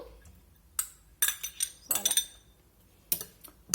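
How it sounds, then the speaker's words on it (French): Bacon lardons are spooned into a lentil salad, giving a few sharp clinks of cutlery against a dish in short bursts separated by near-silent gaps, close and fairly quiet. "je viens mettre mes lardons"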